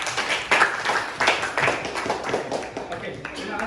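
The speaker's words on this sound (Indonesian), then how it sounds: "kita beri aplaus untuk Azrin" A class applauding a student in a classroom: several bursts of hand clapping from a small group, uneven and fairly close, with a voice speaking over parts of it.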